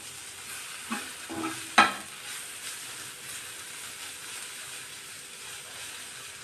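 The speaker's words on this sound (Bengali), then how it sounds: "ডিম ভাজা হয়ে গেছে" An egg frying in a pan gives a soft, steady sizzle with a few brief clatters near the start, close by and fairly quiet, with no talking.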